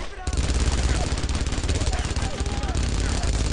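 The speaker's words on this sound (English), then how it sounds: "That's another machine gun." Sustained automatic machine gun fire from the World War II shooter Brothers in Arms: Road to Hill 30, a loud rapid hammering rattle that runs continuously with a few voices mixed underneath.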